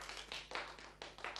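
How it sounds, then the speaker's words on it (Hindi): A group of children claps at a street show, giving a short burst of uneven, moderately quiet hand claps that come in several quick clusters. "अब ताली बजा दो।"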